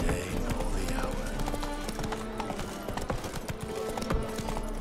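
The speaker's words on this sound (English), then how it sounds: "Whoa there, Roach" A horse's hooves clip-clopping steadily in The Witcher 3 give a close, rhythmic run of hoof beats mixed with game ambience and a voice speaking over it.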